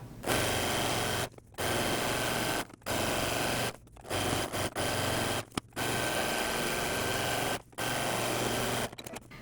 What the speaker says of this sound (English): use a stretch stitch to hem around the bottom